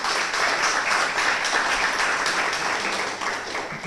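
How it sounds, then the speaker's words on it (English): Audience applauding at a teachers' workshop held with the Canadian Teachers Federation in Dominica, steady dense clapping throughout, loud and fairly close, easing slightly toward the end. "we need to give them a round of applause for that."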